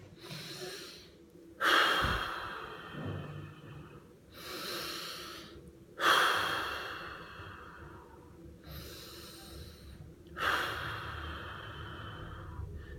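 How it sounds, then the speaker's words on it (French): Exaggerated forced breathing exercise, three long, deliberately pushed breaths, each a sharp loud intake or exhale tapering into a drawn-out airy rush, close and unaccompanied by speech. "Pousser de manière excessive la respiration."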